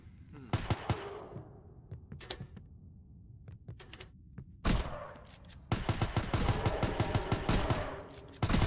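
Sharp gunshots from a pistol in a video game go off in scattered single cracks, then in faster, denser bursts toward the end, with faint game noise between them.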